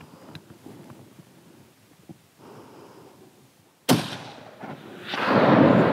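A rifle fires once during a mountain chamois hunt, a sharp close crack halfway through followed by a rolling echo off the slopes, with quiet rustling before it and a swelling wash of noise after.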